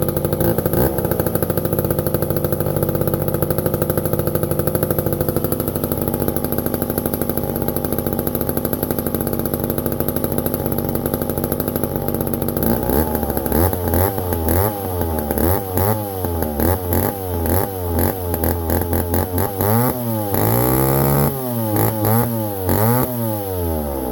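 A Stihl-style 1010 chainsaw runs loud and close, idling with a steady drone before being revved repeatedly in rising and falling bursts through the second half, with no talking.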